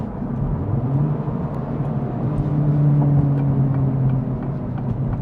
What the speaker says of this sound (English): every time you let off that accelerator, you hear those crackles and pops